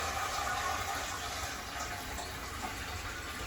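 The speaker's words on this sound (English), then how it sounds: "We're gonna flush the toilet." A toilet being flushed with the water supply shut off, a steady rushing gush of draining water that holds at an even, moderate level for several seconds.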